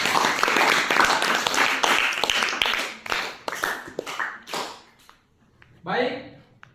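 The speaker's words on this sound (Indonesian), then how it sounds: "Kita tepuk tangan ya." A classroom group applauding on a teacher's cue, many hands clapping loudly and densely at first, then thinning into scattered claps and fading out, with a brief voice near the end.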